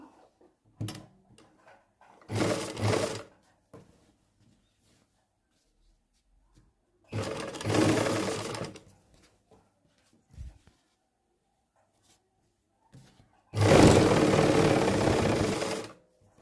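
A sewing machine stitches buckram onto a salwar hem in three separate runs of rapid, close mechanical whirring, with quiet pauses and soft handling noises between the runs.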